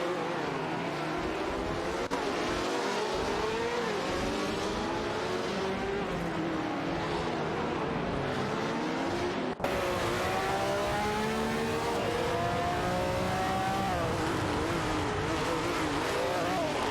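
Race cars in an AI racing video game drive steadily and close, their engines rising and falling in pitch through accelerations and late braking for a corner, with a brief break near the middle.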